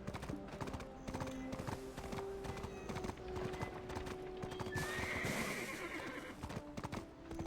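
Rhythmic clip-clop of horse hooves in the game Black Desert Online, with a horse neighing partway through, set against a steady game-like background.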